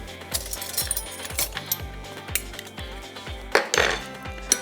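Spoon clinking against dishes while saucing fish tacos, a series of close bright clinks and taps in an uneven rhythm, with a louder scraping clatter near the end and no talk.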